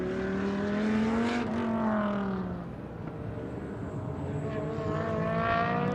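McLaren GT race car engine during a GT Asia Series qualifying session, a loud sustained roar with rising and falling harmonic pitch as it passes and shifts, steady throughout.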